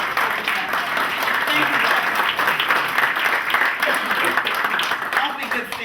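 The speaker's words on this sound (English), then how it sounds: "let's give him a round of applause" A large audience gives a dense, sustained round of applause for a man at a civic gathering, steady and fairly loud throughout, with a brief spoken thanks over the clapping.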